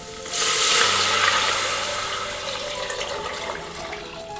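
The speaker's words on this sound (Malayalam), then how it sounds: "ക്യാരറ്റ് ഏകദേശം വാടിയിട്ടുണ്ടെങ്കിൽ വെള്ളം ഒഴിച്ച് കൊടുക്കാം" Water gushes loudly into a pot of wilted carrots for ghee rice, a strong splashing pour that gradually settles into a softer, steady trickle.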